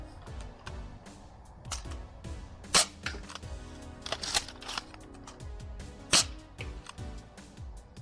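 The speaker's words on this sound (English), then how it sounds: "brand new Jet Blaster darts in a CEDA Model S. First shots." A CEDA Model S foam blaster firing Jet Blaster darts, sharp close snapping shots scattered irregularly over a steady background, with several louder cracks standing out.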